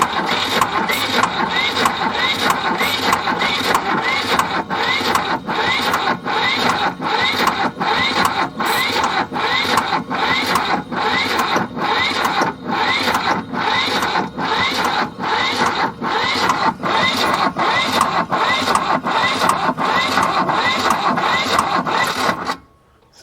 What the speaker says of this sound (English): See, we are just cranking over kind of slow here.